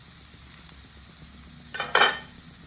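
Japanese yasai itame vegetables stir-fried in a pan, with a steady sizzle, light utensil taps and a brief louder scrape and stir near the end.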